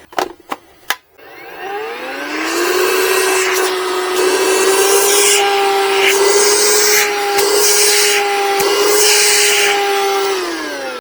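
A VacLife rechargeable handheld vacuum with a motorized brush starts after a few sharp clicks and runs steadily near and loud for about nine seconds with a constant whine, its pitch shifting slightly as the brush meets the surface, then winds down.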